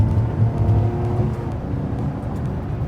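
Ferrari 599 V12 engine accelerating under load, a steady deep drone with rising harmonics, loud and close from inside the car, with no talk over it.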